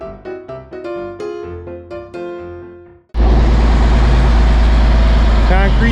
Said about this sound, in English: Concrete truck.